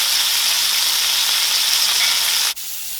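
Burger patty frying in a pan on a stove top at medium-high heat, a loud steady sizzle that drops away abruptly near the end.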